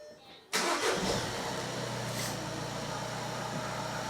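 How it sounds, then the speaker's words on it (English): A cold VW Golf engine with a failed switchable water pump cranks and catches after a quiet moment, then settles into a steady, loud idle rumble. "Let me start the car."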